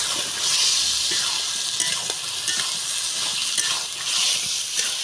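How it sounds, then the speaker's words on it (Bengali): Fried potatoes stirred into a cooked spice masala in a pan for a home-style egg and potato curry give a steady, close sizzle and hiss with faint scraping from the stirring. "আলু দিয়ে আর একটু কষিয়ে নেব।"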